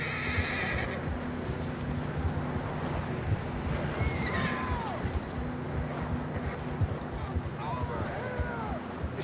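Horses in Red Dead Redemption 2 whinny twice, once near the middle and again toward the end, with hoof clip-clop in the background and a steady wash of outdoor ambience throughout.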